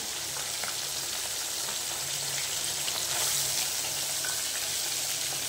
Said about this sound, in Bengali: এই মাছটা এবার ভাজা চড়িয়ে দিল। এবারে একটু মুচমুচে করে ভেজে ফেলবে মাছটা।